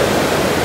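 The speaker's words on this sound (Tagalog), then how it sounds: "Yung dagat mga Inday." Sea waves wash onto a beach at night, a brief burst of steady, hissing surf noise that is close and fairly loud, with no voices.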